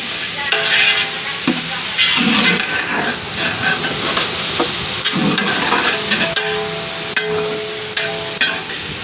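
Ivy gourd and carrot pieces roasting in hot oil tempering with asafoetida, a continuous loud sizzle and hiss with stirring scrapes throughout, cooked in bulk for a large housewarming meal.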